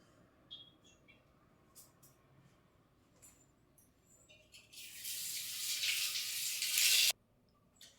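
Water pours into a grinder jar of soaked rice meant for batter, a rushing splash lasting a couple of seconds that stops abruptly, after faint clinks and small kitchen sounds in a quiet room.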